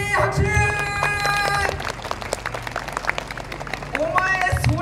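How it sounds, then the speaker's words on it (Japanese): A festival crowd at a YOSAKOI dance event in Sasebo applauds, steady broadband clapping under musical tones and a loudspeaker voice, with music continuing at the start and end. "素晴らしい拍手。"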